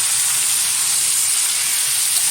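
Green chillies hit a hot wok of grated bottle gourd for a fish-head curry, giving a loud, continuous bright sizzle and hiss that runs unbroken throughout, with no voices.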